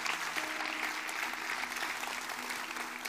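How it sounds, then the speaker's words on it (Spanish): A church congregation claps together during a worship service in Buenos Aires, a faint, steady wash of applause with a low hum underneath. "Denle un aplauso al Señor."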